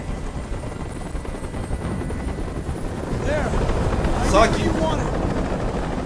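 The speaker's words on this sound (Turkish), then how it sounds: "Tell that helicopter to get out of here." A helicopter hovering overhead in the game Detroit: Become Human, a steady rotor drone that swells louder midway, heard under someone talking.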